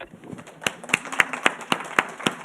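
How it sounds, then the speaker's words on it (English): Audience members at a conference lecture give a thin round of applause: about eight distinct, evenly spaced claps in a slow, steady rhythm against a quiet room. "Sorry, I forgot about the applause."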